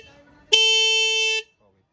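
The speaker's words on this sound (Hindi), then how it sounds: "तो अब दोनों हॉर्न बज रहे हैं" A Tata Tiago's twin car horns sound together in one loud, steady honk of about a second, sharp onset and clean cutoff, close by in a workshop after a brief stretch of quiet.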